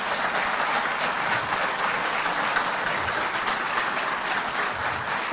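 Sustained applause from a large crowd at a Delhi government event, a dense, even wash of clapping that continues steadily throughout without pause.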